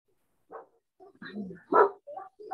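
A dog barks in short, irregular bursts close by, several sharp yips and barks spread across a couple of seconds with quiet gaps between them.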